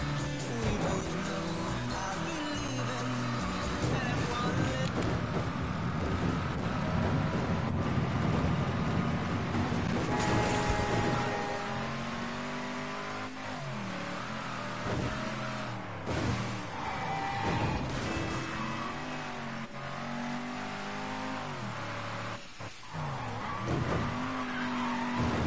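A car driven in the open-world crime game Mafia 3 gives a steady, loud engine drone with bursts of tyre squeal and skidding, shifting pitch as it accelerates and turns, with no talking over it.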